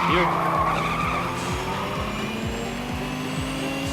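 Cars in the Little Racers STREET racing video game skid with a continuous tire squeal over a buzzing engine that climbs and drops in repeated gear-shift sweeps, loud and close with no talk.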